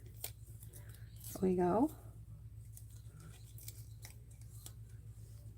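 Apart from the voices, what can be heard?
cutting paper out with scissors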